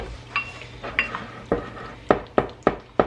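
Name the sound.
mixing tomato jam with ketchup and mustard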